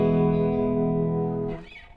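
A clean electric guitar tone runs through Haunting Mids and Chopper T pedals into a Vox amp; one sustained chord rings warmly and evenly, then is cut off and fades.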